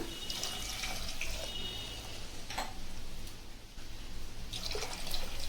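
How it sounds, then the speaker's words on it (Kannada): Water pours into a pressure cooker holding lentils and tamarind juice for vegetable sambar, making a faint, continuous splashing rush with a few brief clinks. "ನೀರು ಹಾಕೊಳ್ಳೋಣ."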